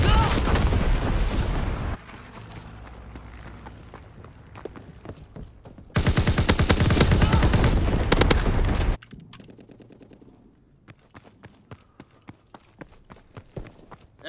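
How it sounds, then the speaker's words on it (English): Bursts of loud gunfire and explosive blasts from incendiary bombs in the World War II shooter Call of Duty WWII, with two heavy dense volleys separated by quieter stretches of scattered crackling fire. "Incendiary bombs incoming."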